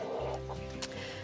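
Chickens and ducks in a coop cluck at close range, a run of short uneven fowl calls over a steady low background.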